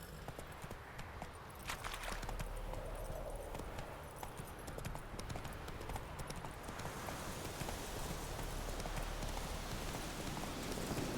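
Horse hooves clip-clop steadily in The Witcher 3, a continuous even trot that holds at moderate loudness over faint game ambience throughout.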